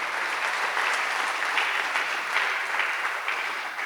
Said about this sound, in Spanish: Damos aplausos al Señor